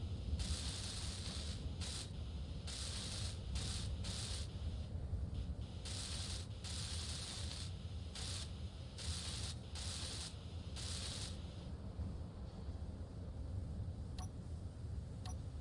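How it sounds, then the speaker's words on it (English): Welding blocks in Space Engineers produces a steady mechanical whirring with rapid ratcheting ticks and bursts of hissing spray, repeated in regular pulses, with no talking. "Let's just go ahead and we'll weld that up real quick so we can actually see what we're working with."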